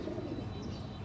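Pigeons coo softly in a loft where a keeper houses many racing birds, a low, faint, steady murmur of cooing with no talk over it.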